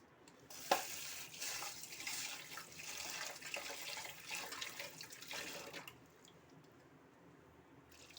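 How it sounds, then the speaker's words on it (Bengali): Lentils (dal) being rinsed in water for a sour dal, with steady running and splashing water at close range for about six seconds, then quieting to a faint trickle. "এই যে ডালটাকে ধুয়ে নিলাম"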